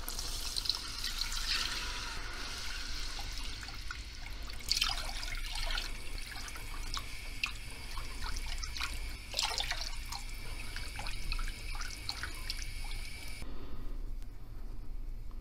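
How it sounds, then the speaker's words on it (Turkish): Milk is poured slowly into a flour roux while making béchamel sauce for a cauliflower gratin, giving a steady close trickle with small drips and light bubbling for several seconds, with no talking. "Şimdi yavaş yavaş sütünü ilave edeceğim."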